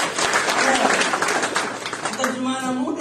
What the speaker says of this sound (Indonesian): Kasih tepuk tangan dulu untuk Tuhan.